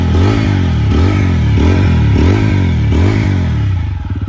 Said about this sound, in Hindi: वो एक बार एग्जॉस्ट नोट इसका सुना देता हूँ